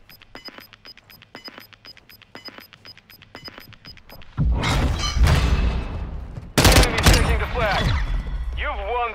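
Video game gunfire: rapid, evenly spaced shots crackle at first, then heavier bursts and booming blasts fill the second half, loud and close, with voices talking over parts of it.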